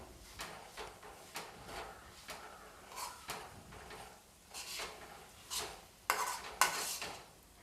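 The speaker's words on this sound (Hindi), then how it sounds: "अब मैं इन सभी चीज़ों को अच्छी तरीके से मिला लूँगी।" Toasted coconut, oats and dry fruits are mixed together in a pan for sugar-free ladoo. Soft spoon scrapes and metallic clinks repeat in an uneven rhythm, quiet and close, with no speech.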